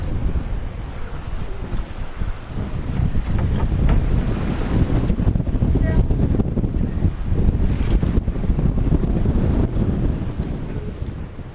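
A sailboat under way at sea toward Cartagena, with steady loud wind buffeting the microphone and waves rushing and slapping against the hull throughout, with no talk.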